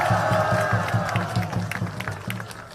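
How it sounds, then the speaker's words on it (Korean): Applause from a crowd at an outdoor Korean civic rally for a young speaker in their twenties or thirties, a steady sustained round mixed with a low rhythmic thumping, gradually easing off. "하상수 2030 청년에게 큰 박수 주십시오."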